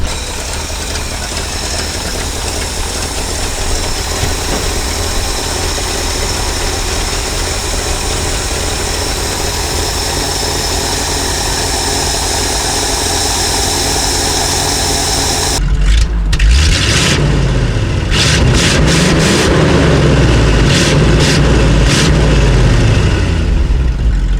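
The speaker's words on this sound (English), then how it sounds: "Okay, truck's running." An old 1968 Ford F600 truck engine idles loud and close with a steady low rumble and knocking throb, its tone shifting and growing rougher and more varied partway through.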